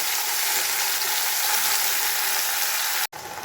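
Boiled taro stolons hitting hot mustard oil in a kadai with dried chilli and mustard seed tempering, a loud, close, continuous sizzling hiss that cuts out abruptly near the end before resuming.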